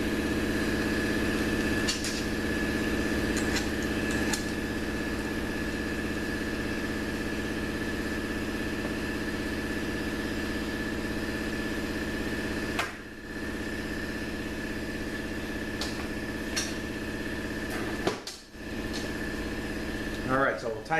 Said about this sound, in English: I'm going to wait for the compressor to shut.